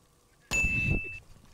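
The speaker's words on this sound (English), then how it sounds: "He's gonna shoot the mute jammer" A Mute signal jammer in Rainbow Six Siege is shot: a sudden loud electronic ding with a sustained high ringing tone and clanging impact that lasts about 0.7 seconds, then cuts off, all without any voices.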